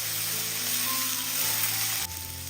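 Pineapple pieces frying in a pan without oil and being stirred: a steady, close, bright sizzle that holds throughout, with a brief shift near the end as the pieces are moved, and no talking.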